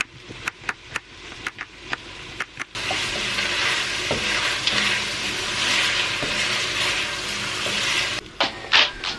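Potatoes and garlic sizzle steadily in a hot pan, a continuous bright frying hiss after a few sharp stirring clatters at the start, close and fairly quiet.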